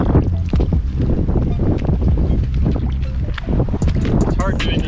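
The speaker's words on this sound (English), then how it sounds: "it's windy out here" Strong gusts buffet the microphone outdoors beside a Catalina 22 sailboat, a steady low roar running the whole way under people talking.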